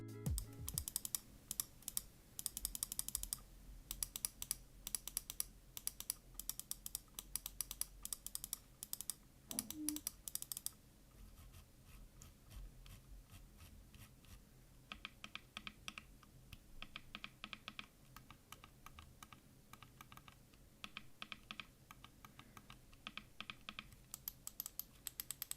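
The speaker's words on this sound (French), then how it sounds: "je vous mets un petit extrait sonore tout de suite pour vous donner une idée du bruit que fait la souris" A computer mouse with an RGB-lit scroll wheel produces a long run of rapid, crisp button clicks, close and dry, in dense bursts with short pauses.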